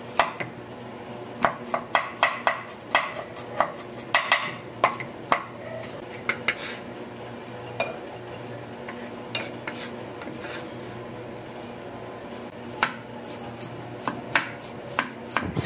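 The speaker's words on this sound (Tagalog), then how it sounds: "medyo matagal yung pag-cut ko ng garlic" A kitchen knife chops garlic cloves on a cutting board in a steady series of sharp, close taps, with faint sizzling and pan clatter behind; the chopping runs in bursts and thins out toward the end.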